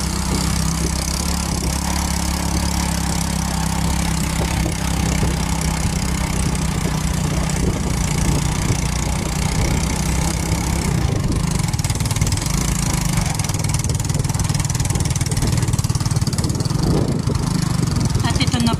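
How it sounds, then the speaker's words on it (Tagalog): A motorcycle engine labours steadily at low revs climbing uphill, a continuous heavy drone with faint background noise and no speech. "Ayan na po at hirap na ang aming motor."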